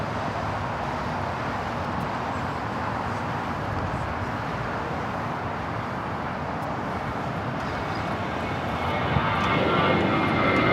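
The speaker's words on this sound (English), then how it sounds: "This is Spirit Airlines 449 taking off to Atlanta on the A320" A Spirit Airlines Airbus A320 takes off from Los Angeles LAX, its jet engines giving a loud, sustained roar that swells slightly toward the end, with no voices.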